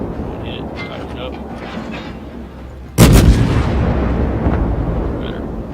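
Warship main battery guns fire in the World of Warships naval combat game: a sudden loud broadband boom strikes midway and then rumbles on and slowly fades, with a quieter background of game ambience before it.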